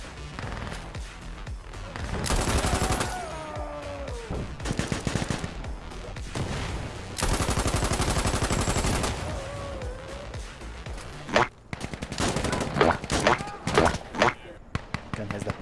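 M3 grease gun fire in Insurgency: Sandstorm: several loud sustained full-auto bursts with pauses between them, then sharper scattered shots near the end, set against game background sound.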